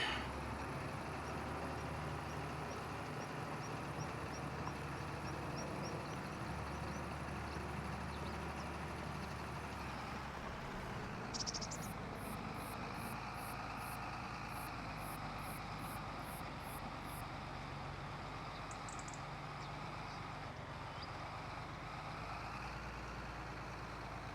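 Tractor engine in a farming video game runs steadily with a continuous low rumble throughout, a few faint high clicks and ticks scattered over the middle section.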